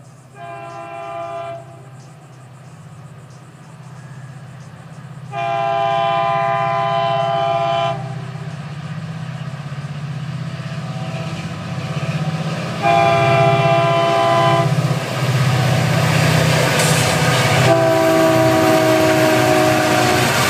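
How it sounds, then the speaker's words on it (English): Florida East Coast freight train 101, led by locomotive 714, rumbles past close by and sounds its horn in several long chord blasts over the heavy rolling roar of the cars. "714 on FEC's 101. Listen to that sweet horn."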